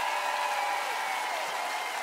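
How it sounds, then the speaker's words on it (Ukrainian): A televised concert audience claps in a steady, even wash of applause for two seconds, fairly soft and continuous. "Ваші оплески Руслану!"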